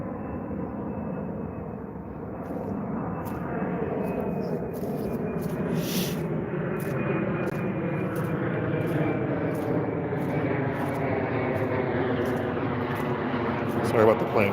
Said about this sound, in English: Sorry about the plane, guys.